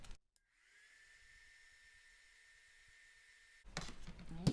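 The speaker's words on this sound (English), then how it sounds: "Anytime you use your blow dryer" Blow dryer whirring steadily to dry a stenciled stretched canvas, a close, even whine that runs for about three seconds before cutting off into louder handling noise.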